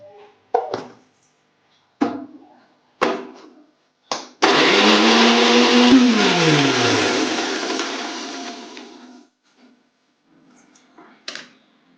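A kitchen mixer grinder grinds masala with coriander for a Malvani-style prawn rassa. Several sharp clicks and knocks come first, then a loud, close whirring burst runs for about five seconds before winding down into quiet, with no talking.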